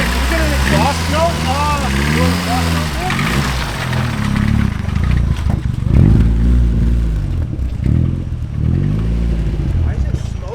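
A rear-wheel-drive Honda Civic with a new exhaust idles with a rumbling exhaust note, revving and falling in waves, while people talk nearby over it.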